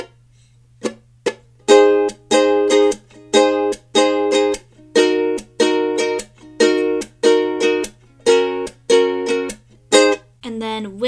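Ukulele strumming the second verse of a song, rhythmic chord strums in a repeating pattern with short pauses between, close and clear with no voices.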